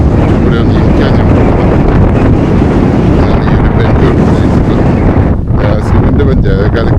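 Strong, steady wind roaring and buffeting the microphone at a hilltop viewpoint, loud and continuous for the whole stretch, with no pause or other sound standing out.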